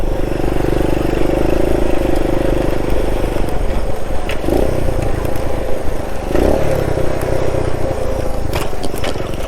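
A 1969 Honda Trail CT90 motorcycle ridden across desert flats and sand, with a loud, steady engine drone close by and rattling, scraping bumps from the terrain.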